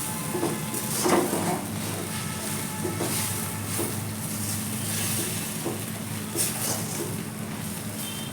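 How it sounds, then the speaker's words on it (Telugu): Amaranth greens being stirred with peanut chili powder in a pan, a steady close scraping and soft sizzle that keeps going the whole time, with occasional light utensil knocks against the pan. "పల్లీ కారం వేసేసి ఇలాగా బాగా మిక్స్ చేసుకున్నాము"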